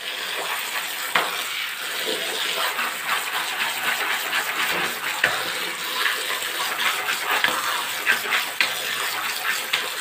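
Fish being washed by hand in water in a home kitchen, a continuous splashing and sloshing with repeated small knocks and stirring sounds, close and fairly loud, with no talking.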